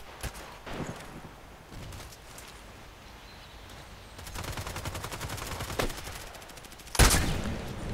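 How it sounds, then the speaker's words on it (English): Gunfire in the online shooter Contract Wars on the Old Sawmill map, with scattered single shots, then sustained rapid automatic bursts and a loud close blast near the end, heard alone without talk. "is he shooting through the fence?"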